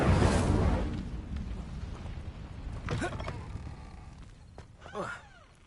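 Incendio fire spell cast in Hogwarts Legacy: a loud whooshing burst of flame at the start that fades into crackling and rumbling, followed by a few smaller flares.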